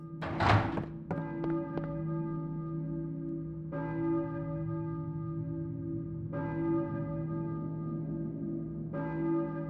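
A church bell in the video game Silent Hill tolls slowly and resonantly, struck about four times at even intervals with long ringing decay, after a few dull thuds and knocks at the beginning.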